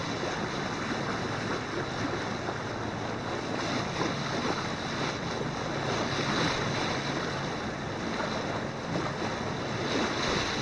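Sea waves washing continuously with a broad, even roar, buffeted by wind noise on the microphone, fairly loud and with no voices.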